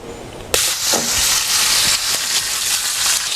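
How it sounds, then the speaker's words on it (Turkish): A beef roast hits a very hot pan and starts searing. A sudden loud sizzle bursts in and keeps hissing steadily, close and dominant. "Şimdi Etimi giriyorum. Hızlıca mühürlemeye başlıyorum."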